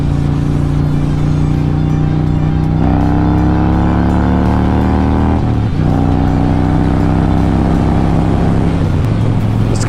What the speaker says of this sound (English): It's got this nice little backfire to it. Just a little bit, but it sounds really good.